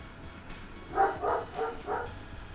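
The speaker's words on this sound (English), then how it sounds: "God only knows what they're barking about." Several dogs bark a few times in a row, four rhythmic barks at moderate distance over a low steady room background.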